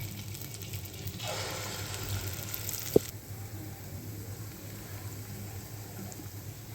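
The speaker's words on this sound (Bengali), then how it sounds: "এবারে বড়াগুলো ভেজে নেব" Doi bora fritters fry in hot oil, giving a soft, steady sizzle. A brief, louder burst of hiss and a single sharp click stand out before the sizzle settles back to a quiet, constant crackle.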